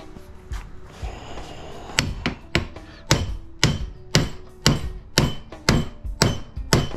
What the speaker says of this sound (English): So now we can beat it with a hammer